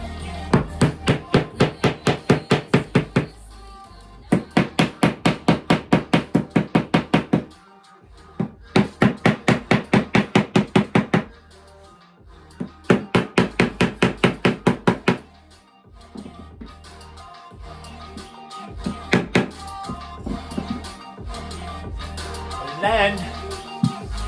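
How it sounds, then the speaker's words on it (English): A screen-printing screen has its seams stapled in bursts of rapid, sharp staple-gun clacks, repeated in several evenly paced runs with short pauses, loud and close, then trailing off into scattered thumps. "I like stapling the seams."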